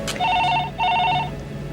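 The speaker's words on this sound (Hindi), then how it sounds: "इतनी रात को फोन उठा लो, शायद उसी का हो।" A telephone rings at night with two clear electronic ring bursts separated by a short gap, bright and steady, with no talking over it.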